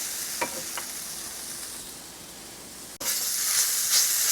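Flour-coated vegetables sizzle in a pan with a steady bright hiss, a couple of soft stirring knocks early on, and a brief dip before the frying swells louder again.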